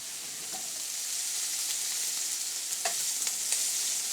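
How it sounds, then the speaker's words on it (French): Bacon lardons render in a pan with a continuous bright sizzle and spitting fat, steady and close, with a few sharp pops and crackles scattered over a few seconds. "On fait fondre les lardons"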